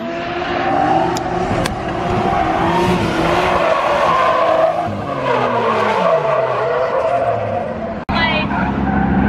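A drift car slides with loud, sustained tire squeal and a revving engine rising and falling through transitions, close and continuous, with voices talking over it.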